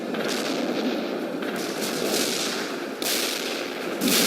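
Artillery barrage in the real-time strategy game World in Conflict, heard as a continuous dense roll of distant booms and crackling impacts, steady and loud across the whole span with no talk.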